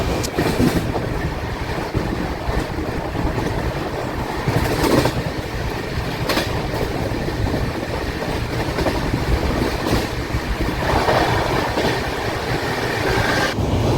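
The Tirumala Express runs between Kadapa and Guntakal, a loud continuous rumble with rhythmic clickety-clack of wheels over rail joints, heard from inside the carriage without talk.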